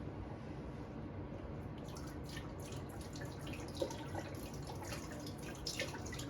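Four cups of beef broth poured from a carton into a cooking pot, a quiet trickling and splashing stream that starts a couple of seconds in and continues with small gurgles and drips, no talking.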